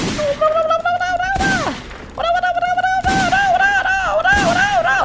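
Gunfire from a gun in the Minecraft video game, repeated sharp shots in quick bursts, heard up close and mixed with excited in-game voices and effects.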